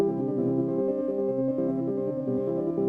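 The grainiac granular synthesizer running in SuperCollider gives off a dense, steady drone of layered sustained tones with subtle shifting textures, continuous and even, with no voice.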